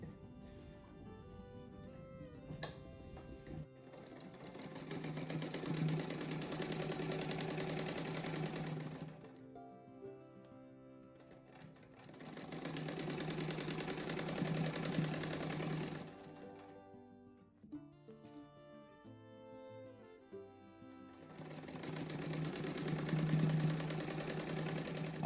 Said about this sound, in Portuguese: Daí aqui a gente costura, sabe que vai sobrar um pouco ali